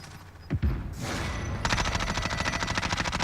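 Gunfire in the shooter game Modern Warfare 2019, a couple of sharp close shots followed by sustained rapid automatic fire rattling steadily and loudly to the end.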